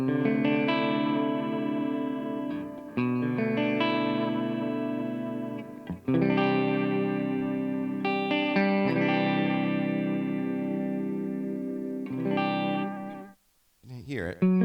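Electric guitar played continuously through a delay pedal in extreme mode with tape-style modulation turned all the way up, giving sustained, loud, distorted-sounding chords with smeared repeats and a brief dropout near the end.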